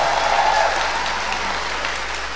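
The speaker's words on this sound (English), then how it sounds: "So please, one more big round of applause and a thank you," A big crowd at the East European Comic Con 2016 panel applauds Charles Dance, starting as a loud, full burst of clapping and holding steady, slightly softening toward the end, with no talking over it.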